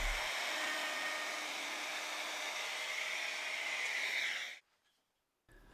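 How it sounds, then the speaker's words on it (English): A router chamfers the edges of a scrap-wood knife block, its bearing riding over the knife slots. It gives a loud, steady high whine with cutting hiss for about four and a half seconds, then stops abruptly, with a brief faint burst near the end. "The router can't quite get into the corners"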